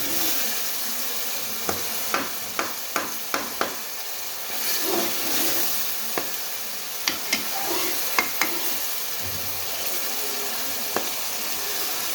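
Ginger garlic paste frying with tomato paste in a pan, giving a steady close sizzle with scattered sharp clicks and scrapes from stirring and no voices.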